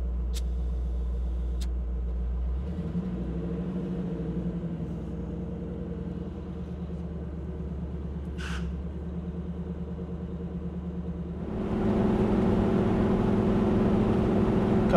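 Engine of a 1970 Chevrolet C10 patina pickup on the road, a steady low rumble with wind and road noise that swells louder near the end, no voices.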